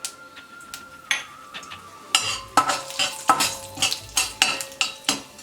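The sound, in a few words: mustard seeds and lentils sizzling in oil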